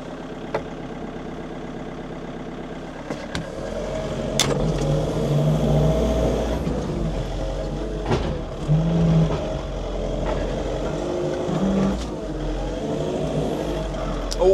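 A truck engine runs steadily at a farm during potato loading, a low continuous rumble with a few sharp clanks and knocks over it, fairly close and moderately loud throughout.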